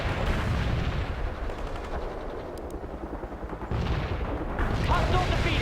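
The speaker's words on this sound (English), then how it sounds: "Heavy artillery barrage inbound." Heavy artillery barrage in the World in Conflict video game: dense, continuous rumbling of shell blasts and gunfire. It fills the whole stretch, loud and close, and swells again near the end, with faint game voices mixed in.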